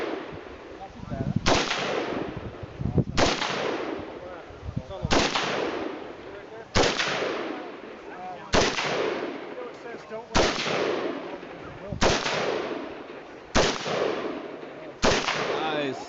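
Rapid gunfire at an outdoor shooting range, loud sharp shots landing roughly every one and a half seconds in a steady string of about ten, each ringing out with a brief echoing tail.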